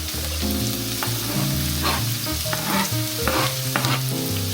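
Chopped red onion and half a red pepper frying in a pan, giving a loud continuous sizzle, with intermittent spoon stirs and scrapes over a low background hum.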